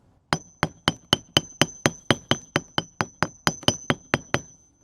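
A hammer strikes a cured concrete slab about fifteen times in an even, steady rhythm, each hit a sharp ringing metallic tap close by with a brief decay, and no voices.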